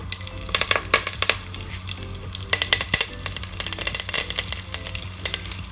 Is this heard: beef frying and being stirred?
yes